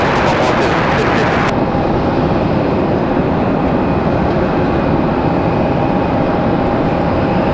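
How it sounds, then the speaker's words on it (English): A Delta Airlines Airbus A321 at Raleigh-Durham airport, a steady loud jet roar filling the whole clip without break, with a brief whine at the very start. "Looks like that A321 headed back to Atlanta for Delta Airlines."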